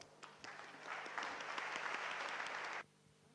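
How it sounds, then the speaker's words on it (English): An audience at the Spark13 event gives a warm round of applause to welcome a speaker. The clapping swells quickly, holds as a dense, even roar for about two seconds, then cuts off sharply into quiet room tone. "So let's receive her with a big and warm applause."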